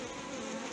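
Honey bees buzz at an opened hive during a colony inspection, a dense continuous hum of many wings, close and steady throughout the brief moment.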